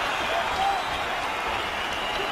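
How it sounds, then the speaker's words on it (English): A London crowd cheers at the Anderson Silva vs Michael Bisping fight, a dense, steady wash of roaring noise that stays loud and even throughout, with no distinct individual voices. "it is met by a huge cheer from the London crowd"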